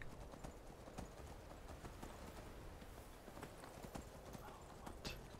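Horse hooves clip-clop steadily at a brisk pace in the video game Skyrim, fairly close, over a constant wash of ambient noise with no talking.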